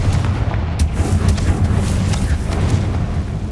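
Confringo blasting spell from Hogwarts Legacy going off as a loud, sustained booming explosion with heavy low rumble and crackling bursts, filling the whole moment without any talk.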